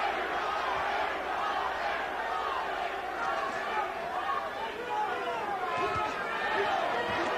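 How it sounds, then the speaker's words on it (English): Boxing arena crowd at the 1992 Holyfield vs Holmes fight chanting Larry for Larry Holmes late in the 11th round, a dense, sustained roar of many voices filling the hall with steady rhythmic chatter. "The crowd again starts the Larry chant"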